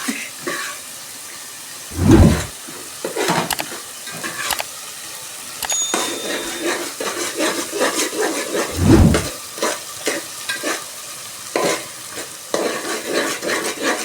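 Food being stirred in a cooking pan in a home kitchen, with scraping and clinking of a spoon against the pan and a couple of louder thumps, under a light sizzle.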